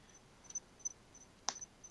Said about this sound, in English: Them crickets, though.